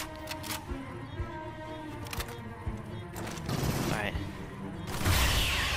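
Rapid gunfire bursts in the sci-fi shooter Aliens Fireteam Elite, crackling in short volleys over game ambience and alien noise, loudest toward the end, with a voice talking at times.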